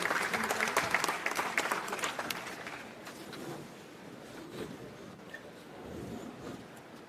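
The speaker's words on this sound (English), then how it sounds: "A huge round of applause and a warm welcome to him." Applause from an audience welcoming the chief guest at the IIJS Signature and IGJME 2024 inauguration ceremony in Mumbai, strong clapping at first that thins and fades to a faint, scattered patter.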